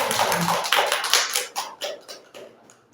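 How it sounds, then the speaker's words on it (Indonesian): Applause from a seated group of women for a presenter at a teachers' training session, a dense burst of clapping that thins into scattered individual claps over about three seconds. "kita berikan aplaus kepada Pak Nurdin yang sudah menyampaikan materi"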